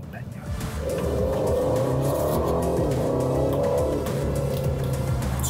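An Aston Martin DB12 engine roars up through rising revs, a strong, close acceleration that swells and holds, with a voice talking over the engine noise.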